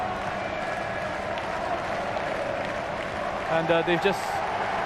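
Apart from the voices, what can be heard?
stadium crowd applauding and celebrating at football match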